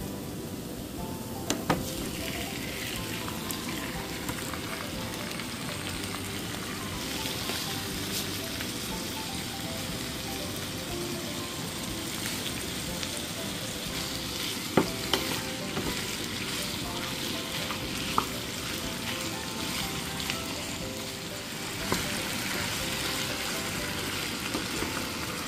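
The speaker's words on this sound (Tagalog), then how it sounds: "Magluluto po muna tayo ng lugaw." Lugaw, a rice porridge, cooking in a pot in a home kitchen, with a steady low sizzle and bubbling running throughout and a few sharp clinks of stirring scattered over it.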